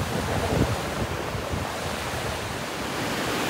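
The Bhagirathi river current rushing at Gangotri in the Himalayas: a constant, dense roar of turbulent water, loud and close, with wind buffeting the microphone and no voices.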